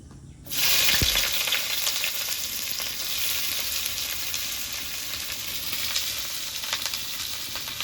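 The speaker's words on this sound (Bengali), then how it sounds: "এবার চাউমিন ভাজার জন্য পেঁয়াজ কুচিটা আগে ভেজে নেব" Chopped onion hits hot oil in a home kitchen pan for chow mein, a sudden burst of sizzling that settles into a steady, close, bright frying hiss with faint stirring clicks.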